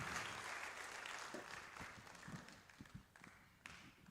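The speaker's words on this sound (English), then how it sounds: "More, let's give a clap offering." A church congregation at a Marshallese conference gives a clap offering, a faint, distant wash of applause that thins out into scattered claps.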